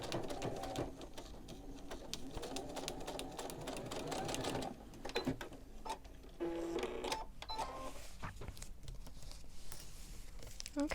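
A sewing machine stitches quilt block pieces for a Jefferson Memorial quilt block, running in close, rapid mechanical bursts with brief pauses and slowing near the pins.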